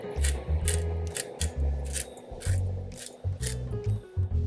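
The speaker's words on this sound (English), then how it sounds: "And then just give it a good whisk" A whisk beats salad dressing of oil, seasoning and ground pepper in a bowl, giving rhythmic clattering strokes in quick bursts with brief pauses, close and moderately loud.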